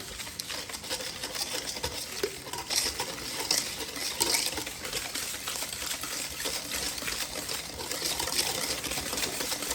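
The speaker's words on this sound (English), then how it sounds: "So I'm going to throw the eggs in. And I'm going to keep whisking here." A whisk clatters steadily against a bowl as eggs are beaten into brownie batter, a continuous scraping, tapping rhythm close by with no voices.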